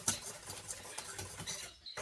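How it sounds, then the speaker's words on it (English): Sugar, eggs, vanilla and egg white are whisked in a bowl, a steady quick tapping and scraping of the whisk that stays close and moderately quiet, stopping briefly near the end. "we're just going to give it a whisk"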